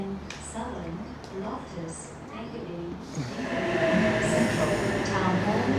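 A Sydney suburban train pulls into the station, its rumble swelling and growing louder in the second half. Someone talks briefly over it as it arrives.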